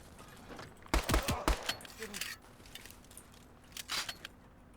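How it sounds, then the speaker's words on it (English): Pistol fire in the WWII strategy game Call to Arms: Gates of Hell: a quick burst of about four sharp shots near the start, then one more crack a few seconds later, over quiet battlefield ambience. "Never underestimate the power of a pistol"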